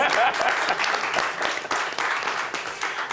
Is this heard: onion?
no